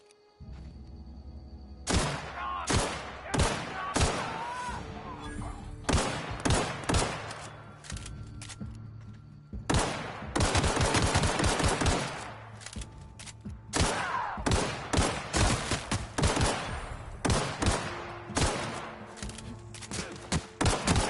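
Enemy gunfire in the sci-fi shooter The Outer Worlds: repeated loud bursts of shots come in volleys with brief pauses, some crowded rapid fire, continuing throughout without speech.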